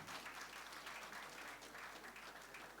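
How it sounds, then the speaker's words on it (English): An audience at an investors' forum applauds, a continuous, even patter of many hands, quite faint and distant throughout. "shall we applaud the ladies"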